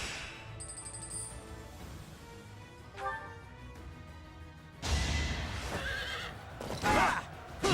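A horse whinnies in the video game Fire Emblem: Three Houses during a tournament battle, a loud, bright neigh near the end following quieter game effects and clinks.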